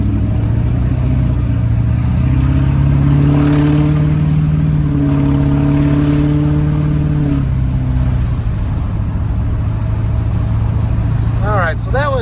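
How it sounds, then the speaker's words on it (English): LB7 Duramax pickup with an HSP turbo horn accelerating uphill, its engine drone rising steadily in pitch for several seconds then easing off, loud and close throughout, with a brief whistling spool flutter near the end. "We'll go up the hill here and see if we can get some good turbo action."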